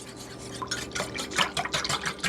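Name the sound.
whisking egg into buttermilk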